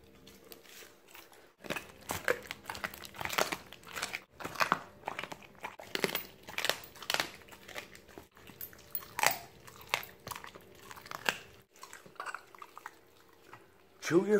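A Siberian husky chews food outdoors at night, producing a steady run of close, wet, crunchy bites and smacking chews that repeat irregularly throughout.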